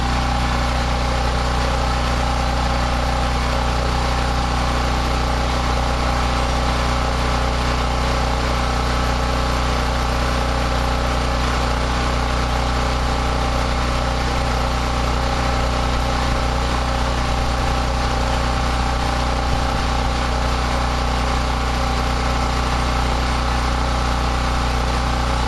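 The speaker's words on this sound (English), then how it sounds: "I shut the gas off on the generator." A generator engine runs steadily for the whole stretch, a loud, constant mechanical drone with a strong low hum and no change in pace, with no voices over it.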